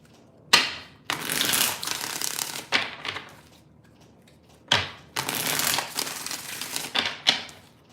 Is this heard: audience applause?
no